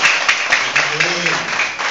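Children clapping at a mission Christmas party, a broad burst of applause with a few sharper claps standing out, while a voice speaks underneath.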